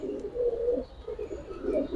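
Soft, repeated low cooing of Giribaz pigeons, close by and continuous, with a faint bird chirp or two above it.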